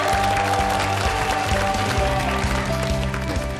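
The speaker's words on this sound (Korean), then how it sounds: "박수로 청하겠습니다." A studio audience on a Korean TV health show's New Year special applauds loudly and continuously, with a steady musical beat thumping beneath the dense clapping.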